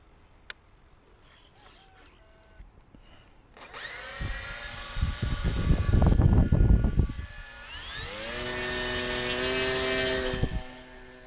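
An RC P-51 Mustang model airplane with an electric motor spools up, buzzing loudly as it passes close by, fading briefly, then droning again at steady power with a rising and falling propeller whine, heard outdoors with no voices.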